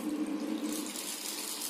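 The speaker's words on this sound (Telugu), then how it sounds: "మంచి నీళ్ళతో శుభ్రం చేసుకోవాలి, బాగా కడుక్కొని" Wheat grains are rinsed under a running kitchen tap, a steady close rush of water splashing into the grain, constant throughout with no talking.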